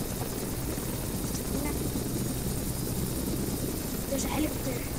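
Helicopter in the Flight Simulator X game, a steady low rotor and engine drone holding throughout at moderate level, with faint voices and small background noises over it.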